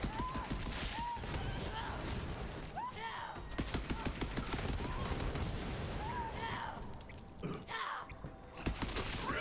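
Gunfire in the video game Borderlands 3, dense rapid bursts of automatic weapon fire and impacts running nearly continuously, loud and close, with game effects mixed in.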